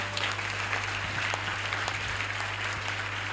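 A church congregation claps loudly and steadily, dense applause of many hands filling the room, with a low electrical hum underneath.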